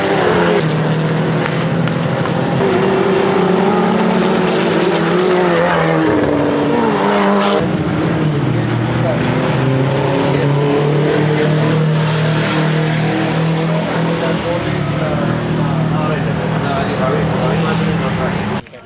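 Race cars roar past on a circuit, their engines revving and shifting pitch continuously, loud and close, while a commentator talks over the noise.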